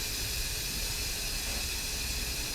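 Steam hisses steadily from a pressure cooker releasing the last of its pressure after cooking goulash, a continuous soft, even rush with no talk over it.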